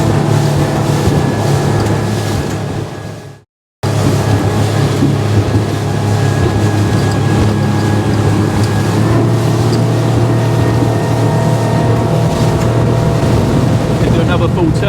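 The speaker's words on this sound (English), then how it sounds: "Another full turn and accelerate again." A Highfield Patrol 860 RIB motorboat accelerates hard through a full turn, its engine drone loud and steady with rushing water and wind, broken by one brief dropout near the start.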